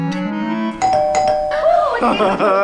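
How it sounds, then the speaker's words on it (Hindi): A doorbell chimes clearly up close, a bright ding-dong tone, followed by people talking over the fading ring. "दरवाजे की घंटी बस बजाने वाली है"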